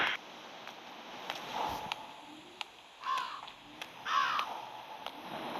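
Two harsh crow caws from a horror video game ring out a second apart over a faint, steady ambient background, with a few soft rustles between them.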